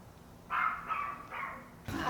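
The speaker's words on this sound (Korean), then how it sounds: "막 짖네." An anxious, fearful poodle wary of strangers barks indoors, a few quick high-pitched yaps in a short burst followed by another bark, fairly close and alone.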